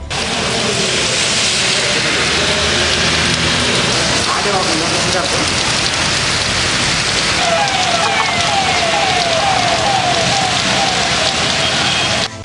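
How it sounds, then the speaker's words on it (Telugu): Steady, dense heavy rain hissing across the whole stretch in Hyderabad's flooded, congested streets, with traffic rumbling beneath and a faint siren-like wail drifting in partway through. "రాజధాని హైదరాబాద్ను వాన ముంచెత్తింది"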